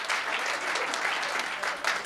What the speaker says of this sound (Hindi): एक बार पूरा सदन जोरदार तालियां।